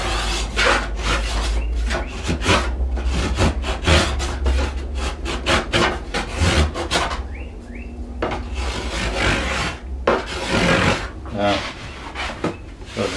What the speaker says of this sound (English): Try a little sharper spoke shave.